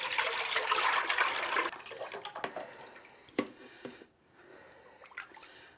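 Chicken broth for chicken and noodles pours in a steady, splashing stream into a pot for a couple of seconds, then gives way to a few clinks and quiet handling sounds.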